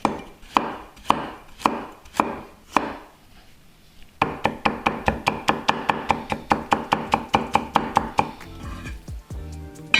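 A knife chops carrots into thin julienne matchsticks on a cutting board, a few spaced strokes and then a fast, steady run of sharp, even taps up close, with no voices.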